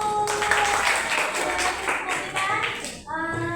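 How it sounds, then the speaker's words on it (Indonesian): Students in a classroom clap for group 1 after a presentation in an Islamic studies lesson, a lively mix of clapping under excited voices and chatter. "Oke, beri tepuk tangan untuk kelompok 1"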